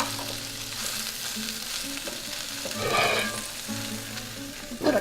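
Spinach sizzles in a hot pan as it is stirred, with a steady close frying hiss broken by soft scraping strokes and a louder stir near the end.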